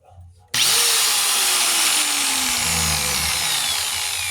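A power metal-cutting saw starts abruptly with its blade spinning, then runs as a loud, close, continuous high whine with a slowly falling tone.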